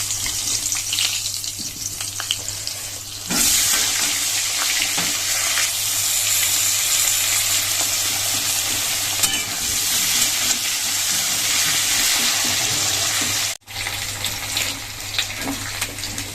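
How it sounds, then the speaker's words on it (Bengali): Ginger dropped into hot oil left over from frying fish: after a quieter start, a loud, dense sizzle bursts up and roars steadily, with one short break near the end. "এই তেলে দিয়ে দেবো হচ্ছে আদা।"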